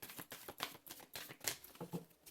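Tarot cards being shuffled by hand, giving a string of close, papery riffles and flicks in an uneven rhythm, with no voice.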